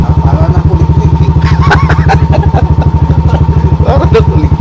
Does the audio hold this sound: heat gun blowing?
no